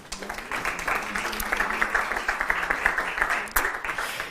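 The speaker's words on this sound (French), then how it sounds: "Merci de les accueillir et de les applaudir." Audience applause at a live French debate on European trade policy, welcoming panel guests to the stage: steady dense clapping from a room full of people, holding for several seconds before thinning toward the end.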